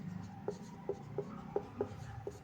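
Chalk or marker strokes on a classroom board while a definition of acceleration is written, a quiet run of six short taps and scrapes spaced about half a second apart over low room background.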